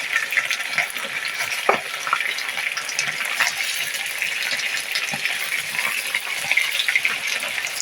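Seafood sizzles and fries steadily in a paella pan, a close, continuous crackling hiss with occasional stirring scrapes and no talking.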